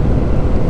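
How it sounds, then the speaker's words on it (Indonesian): Strong crosswind buffeting a touring motorcycle on the road at night, a loud low rushing roar that lasts less than a second. "angin dari samping kiri kanan itu agak lumayan kencang"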